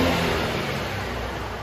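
A 2018 Infiniti Q60 with a 3.0L twin-turbo V6 and stock exhaust revs steadily up close, a loud, smooth and fairly muted engine note that holds for a moment and then eases slightly.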